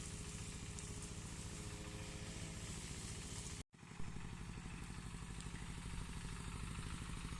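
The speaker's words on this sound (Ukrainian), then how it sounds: "Отак він культиватором маленьким до тракторця." A small tractor engine pulling a small cultivator chugs and clatters steadily at close range, with a brief cut partway through before the rhythmic running resumes.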